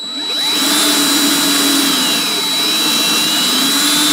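A power tool reaming a small engine valve guide at low speed, a steady close whine with a high tonal ring over broadband hiss, loud and continuous, no talking.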